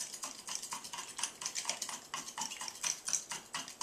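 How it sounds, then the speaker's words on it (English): A plastic fork stirring in a container to dissolve a solid for a chemistry lab, rapid rhythmic scraping and clicking strokes repeating evenly throughout, close and quiet with no speech. "It says it may take a moment or 2 of stirring, so I guess they mean it takes a while."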